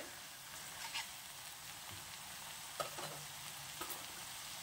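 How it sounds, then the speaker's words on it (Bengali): Coriander leaf pickle being stirred in a pan after sugar is added, giving a steady soft scraping and sizzling texture with a few sharper clinks, moderately quiet and with no talk. "চিনিটা দেওয়ার পর নাড়াচাড়া করে"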